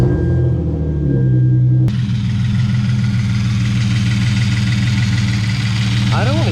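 A Hyundai Genesis Coupe engine cranks and starts after a catch can install, then settles into a steady, loud, close idle with a low rumbling throb that continues to the end.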